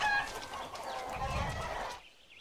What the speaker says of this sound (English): That is a lot of chickens. Look at all those chickens.